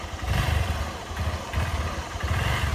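A motorcycle engine running close by, a rough low throbbing idle with rhythmic pulsing and some mechanical clatter, steady throughout.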